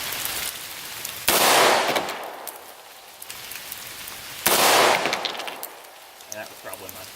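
Two loud 9mm pistol gunshots fired off a rest at a range, a few seconds apart, each a sharp blast with a longer echoing decay.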